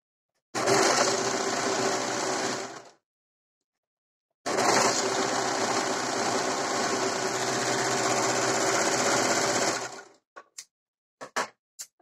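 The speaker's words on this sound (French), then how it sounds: "je vais les passer à la surjeteuse" An overlocker serges the edges of pieces of a rockabilly top, running in two steady whirring bursts with a pause between them, then a few brief clicks as the fabric is handled at the end.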